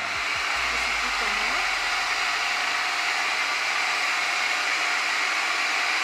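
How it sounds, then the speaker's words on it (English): A Hoover ONEPWR FloorMate Jet cordless hard floor cleaner runs on eco mode. A short low thump as it starts leads into a constant, loud, airy motor whir that holds steady throughout with no talking. "I'm going to start on eco mode so you can hear how it sounds"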